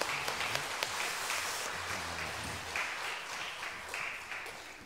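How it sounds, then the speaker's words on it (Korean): Church congregation applauding during a Sunday morning worship service, moderate steady clapping spread through the room, fairly quiet and diffuse, with faint low voices or music underneath. "하나님께 영광의 박수 올려드립니다."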